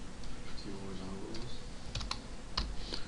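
Java code being typed on a computer keyboard, a steady run of soft key clicks with a few sharper taps near the end, close and fairly quiet under a continuous background hum.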